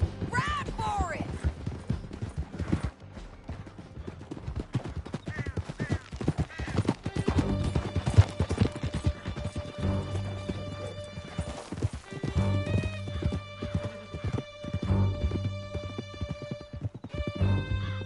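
Horses gallop in a video game, a rapid, continuous clip-clop of hooves with occasional neighing and whinnying, loud and close, under shouted dialogue and game sounds.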